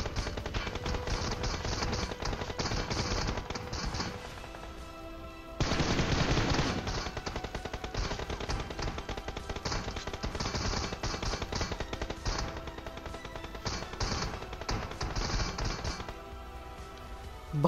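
Automatic M249 machine gun fire in the BGMI battle royale game, sustained rapid bursts that rattle on continuously for many seconds, with a louder stretch partway through and no talking.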